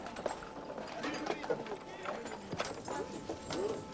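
Circus horses moving about a busy ring give repeated hoof clip-clops at moderate distance, heard under French speech and background bustle.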